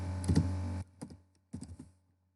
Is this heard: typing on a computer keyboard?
yes